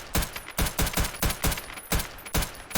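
Rapid, evenly spaced 9mm shots from a PL-15 pistol in Escape From Tarkov, about ten sharp reports in under three seconds, loud and close with no talking.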